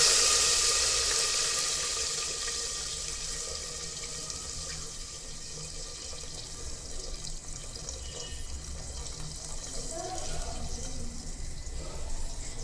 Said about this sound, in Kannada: ಸೊ ಈ ನೀರನ್ನ ಮಾತ್ರ ಇದರಲ್ಲಿ ಆ್ಯಡ್ ಮಾಡ್ತಾಯಿದ್ದೀನಿ